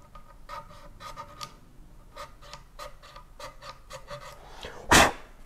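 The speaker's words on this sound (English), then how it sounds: "I'm going to clean up all of these spaces in between the frets, getting off any glue residue" Cleaning between guitar frets to lift glue residue gives a quiet run of short, dry rasping scrapes in an uneven rhythm, close up, ending with one louder scrape.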